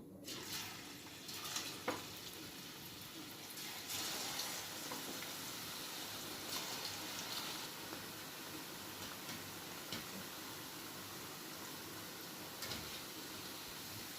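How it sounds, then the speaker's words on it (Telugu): Cauliflower gobi pakoda deep frying in hot oil, a steady broadband crackle and fizz throughout with a few louder spatters and clinks near the start, close and continuous with no talking. "ఇప్పుడు మనం గోబీ వేసుకొని ఫ్రై చేసుకుందాము"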